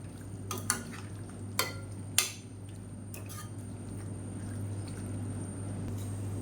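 Cauliflower chops are stirred in a pan, with a few sharp scrapes and clinks of a spoon against metal over a quiet steady hum, then softer faint scraping, with no speech.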